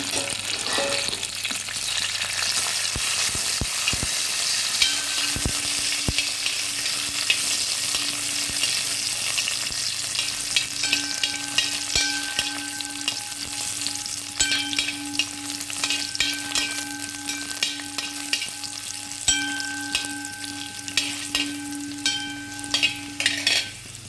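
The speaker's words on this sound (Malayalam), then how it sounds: "അണ്ടിപ്പരിപ്പ് ചെറുതായിട്ട് കളർ മാറുന്നുണ്ട് ആ സമയത്ത് കഴുകി വെച്ച മുന്തിരി ഇട്ട് കൊടുക്കുന്നുണ്ട്" Cashews and washed raisins fry in a pan for a semiya payasam, a steady bright sizzle running throughout with occasional stirring scrapes and clicks, close and fairly loud, no talking.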